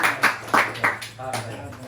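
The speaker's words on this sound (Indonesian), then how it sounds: "Beri tepuk tangan teman-teman" Classmates give a few scattered claps in a classroom counseling session, brief soft bursts mixed in with a talking voice.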